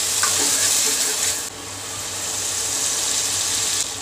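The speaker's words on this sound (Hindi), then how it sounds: "अब हम इन सबकी अच्छे से भुनाई कर देते हैं सभी मसालों की।" Spices roasting in oil in a pan for palak paneer, a steady broadband sizzle that drops slightly partway through and then continues evenly, close and fairly loud, with no voices.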